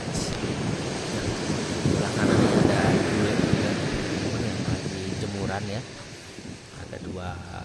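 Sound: waves at Dreamland beach, Bali

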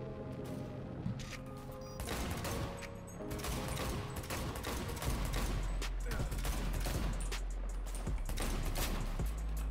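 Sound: gunfire in a video game

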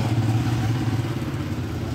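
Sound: Honda 125 motorcycle engine running

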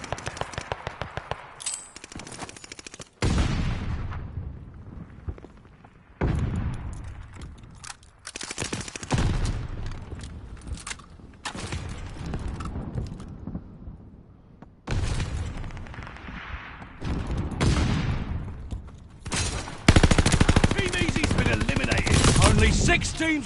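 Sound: gunfire in a video game

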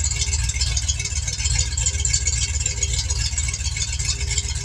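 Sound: car engine idling

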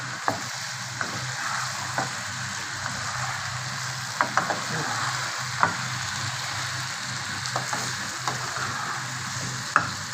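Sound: shrimp frying with tomato in a pan

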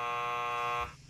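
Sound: game timer buzzer

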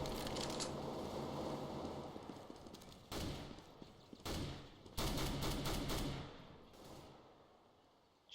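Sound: automatic weapon gunfire in video game Counter-Strike GO

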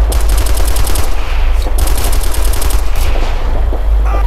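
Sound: gunfire in the video game Operation Flashpoint: Red River

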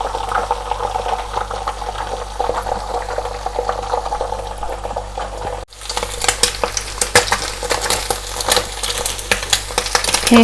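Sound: egg frying in a pan for Thai glass noodle stir-fry

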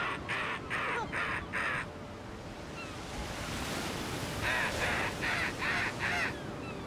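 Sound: birds calling over the sea at night

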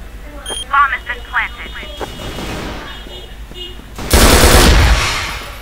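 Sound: gunfire in a video game (Vietnamese clan war game)

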